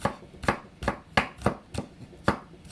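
Fresh ginger sliced with a knife on a cutting board in a home kitchen, about seven evenly spaced sharp chops, close and clear, with no voices.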